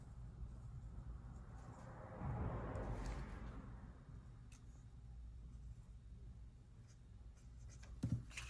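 A pen tip touched and drawn across a patriotic protest postcard gives a soft, steady scratching that swells briefly in the middle and then settles into a faint rasp, close and quiet with no talking.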